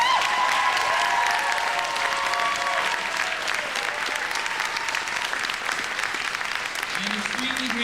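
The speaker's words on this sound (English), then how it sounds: "one more hearty round of applause for Mr." Audience at a graduation ceremony clapping in a sustained, dense round of applause that fills the whole stretch, loud and close, fading slightly near the end.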